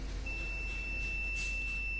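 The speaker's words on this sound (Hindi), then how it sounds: "ये देखिए इस कैपेसिटर को मैं यहाँ पे चेक कर रहा हूं तो ये आपका कंटिन्यू बीप साउंड कर रहा है" A multimeter on continuity test gives a steady, high-pitched tone throughout while its probes touch a shorted SMD capacitor on a solar inverter board, over a low background hum.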